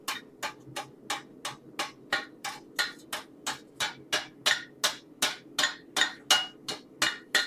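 Steady hammer blows ring on the corner of an anvil face in a forge as metal is reshaped, about twenty-two evenly spaced sharp metallic strikes, close and growing slightly louder.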